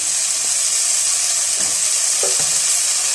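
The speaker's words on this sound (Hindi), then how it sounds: "सबसे पहले मैं एप्पल को कैरमलाइज कर लेती हूँ।" Sliced apples cooking with a tablespoon of butter and two tablespoons of sugar in a saucepan, caramelizing with a loud, continuous sizzle and a few faint stirring knocks, no voices.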